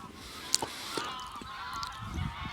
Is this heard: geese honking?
yes